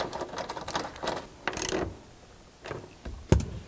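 A hand ratchet clicks in short bursts while driving a T50 Torx bit to reinstall a bracket on a Jeep JL Wrangler, close and irregular, with a few sharper knocks near the end.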